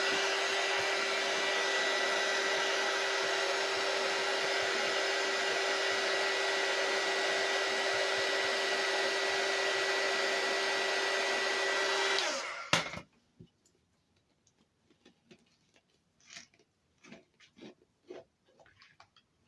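A hair dryer blows loudly and steadily for about twelve seconds to heat a stuck package open, then switches off, leaving faint rustling and handling noises.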